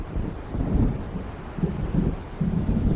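A thunderstorm in the horror game Alan Wake Remastered near a lakeside island. Low rumbling thunder rolls in swells over steady rain and wind, with no voices.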